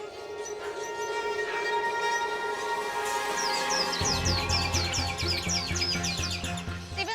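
Many caged birds at a bird market chirping and tweeting together, bright overlapping calls and quick repeated chirps over a steady background din, with a low hum joining partway through.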